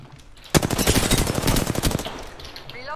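Sustained machine gun fire in Apex Legends, a loud rapid burst of shots lasting about one and a half seconds after a brief quiet start, then tailing off into faint mechanical reload clicks.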